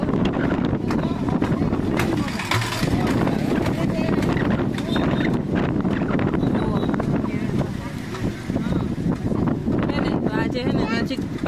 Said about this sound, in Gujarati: અહીંયા પવન બહુ જ છે